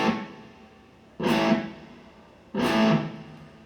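Electric guitar with reverb, two strummed chords ringing out one after another, each a bright, full attack that sustains and spreads with a spacious wash, close and fairly loud.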